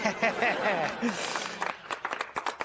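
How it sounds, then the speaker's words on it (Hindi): A short burst of scattered clapping from a small group follows a spoken line on a Hindi TV comedy set, the claps coming quick and uneven near the end. "इसी बात पे ताली।"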